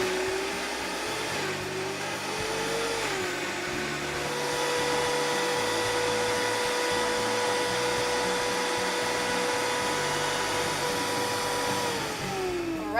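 A kitchen blender runs steadily at a constant loud whir, blending a vegan avocado chocolate mousse with vanilla and mint extract, its pitch shifting slightly partway through before the motor winds down near the end, with no talking.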